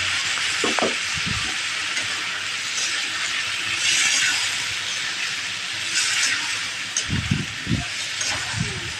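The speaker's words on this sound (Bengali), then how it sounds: "এবার আমি ভালো করে একটু ভেজে নেব" Ground ginger and cumin paste frying with turmeric in hot oil for a fish and potato curry, giving a steady close sizzle with a few soft stirring knocks and no talking.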